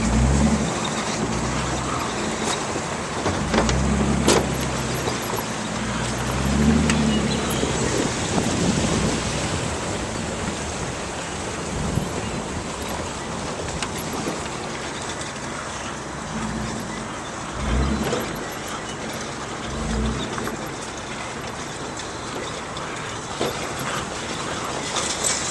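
Steady broadband roar of freeway traffic passing overhead, heard from a fishing spot beneath the road in Arizona, with occasional louder rumbles from heavy vehicles and no talking.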